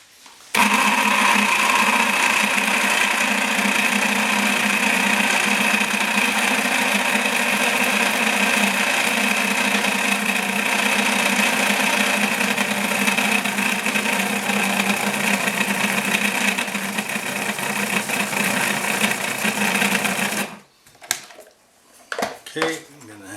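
An electric food processor blends carp roe taramosalata dip in a loud, continuous motor whir with rattling for about twenty seconds, then stops abruptly, leaving faint scraping and clicks.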